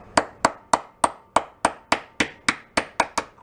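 A hammer strikes a part of an antique gas-powered drill about twelve times in a steady, even rhythm, each blow sharp, close and ringing briefly.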